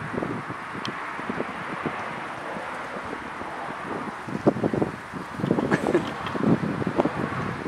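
Wind gusting across a microphone outdoors, with a broad steady rush and scattered rustling of leaves that grows busier and louder toward the end.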